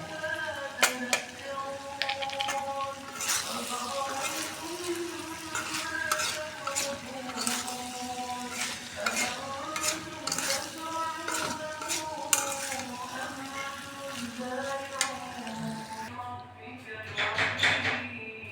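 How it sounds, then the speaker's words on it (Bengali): Chickpeas fried and stirred in a pan with ground cumin, a steady sizzle broken by repeated scraping and clacking of a utensil against the pan, close and fairly loud throughout. "এই যে হয়ে গেছে আমার বুটটা ভাজা আমি জিরার গুঁড়া দিয়ে নামাই ফেলবো"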